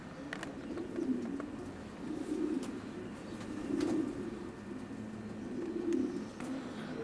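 A blue cock racing pigeon coos in low, rolling phrases about every two seconds, faint and fairly close in a quiet space.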